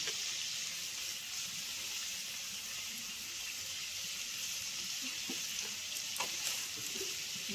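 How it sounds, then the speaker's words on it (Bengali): Chopped carrots, potatoes and other vegetables frying in a pan for a daliya pulao, giving an even, close hissing sizzle with a few faint stirring clicks and no talking. "কেটে রাখা গাজর, আলু, সবজিগুলো একটু ভালো করে ভেজে নেব।"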